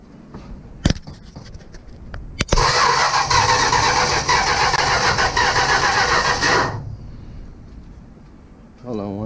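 A 1965 Plymouth Barracuda engine that has sat for three years cranks over on its starter, a steady, loud whirring churn that lasts about four seconds and then stops, with a few clicks before it starts.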